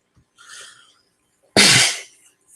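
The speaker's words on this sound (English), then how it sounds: "sorry about the cough there" A single loud, sharp cough or sneeze-like burst from a man during a casual sports chat, preceded by a softer breathy sound, close to the microphone.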